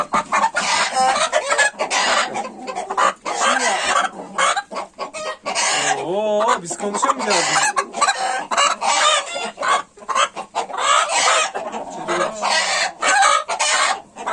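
A flock of 8.5-month-old ornamental chickens and roosters clucking and squawking loudly and continuously, with a rooster's crow rising in the middle and a brief voice underneath.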